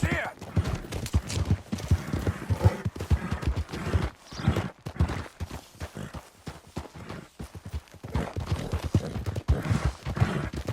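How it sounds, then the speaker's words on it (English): Horse hooves clip-clop in Red Dead Redemption 2, a close, uneven series of thudding steps as the horse walks and shifts, with brief pauses and a faint whinny mixed in. "That's a fine horse you got there."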